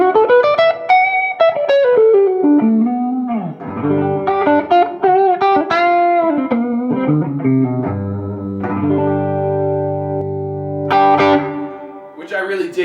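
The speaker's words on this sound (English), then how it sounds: "So it's just boost the preamp tubes," Electric guitar runs through a Ceriatone OTS 20 amp with its preamp boost engaged. Loud, close, driven licks and held chords play without any talking.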